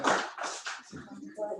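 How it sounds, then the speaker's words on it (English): Applause breaks out at a Toastmasters club meeting as a member is called up to present an award, a burst of dense clapping that gradually thins out over a couple of seconds. "A round of applause for"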